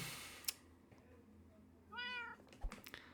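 A cat gives one short, clear meow amid quiet room sounds, with a few soft clicks and taps around it.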